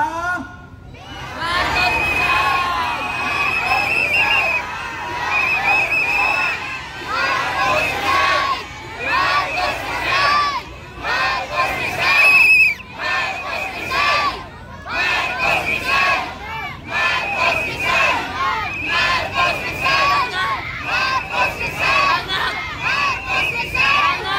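Protest crowd at a Philippine rally calling for Marcos to resign, shouting in loud repeated chant-like bursts with voices rising and falling, a dense mass of near voices throughout.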